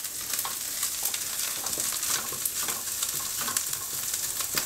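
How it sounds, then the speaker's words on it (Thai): Chilli paste ingredients for a tamarind chilli dip being stir-fried in a pan, a dense crackling sizzle with frequent quick spatula scrapes in an uneven rhythm, close and fairly loud. "วันนี้นะคะเราก็ผัดเครื่องต่างๆค่ะให้เข้ากันเลยนะคะ"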